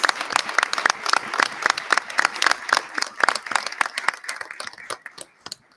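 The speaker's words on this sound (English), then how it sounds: "How about one last round of applause for all of our volunteers?" A volunteer recognition ceremony audience applauds its volunteers, with distinct, fairly close claps in a lively rhythm that thins out toward the end.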